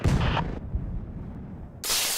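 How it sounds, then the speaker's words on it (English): Heavy cannon blast in a video game, a loud booming burst at the start, then a fading rumble and a second strong blast near the end. "this cannon was actually built to fire humans"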